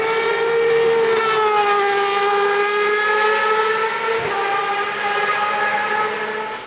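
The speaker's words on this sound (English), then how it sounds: "implementing a 750 brake horsepower V12 engine into the back of the chassis, which sounds absolutely incredible" A Panoz Superleague Formula race car's 750-horsepower rear-mounted V12 engine screams past in a high, sustained wail with a slowly falling pitch, loud and continuous throughout with no talk.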